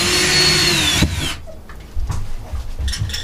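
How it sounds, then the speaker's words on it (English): A loud, close power drill whines steadily through wood aboard a boat, then stops abruptly, leaving scattered knocks and handling sounds. "The trick is don't drill too deep."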